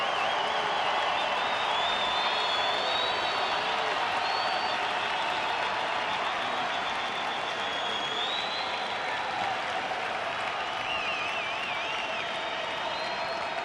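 A Houston ballpark crowd at a Red Sox–Astros game roars steadily for over ten seconds, a dense, loud wash of cheering and whistles with no break.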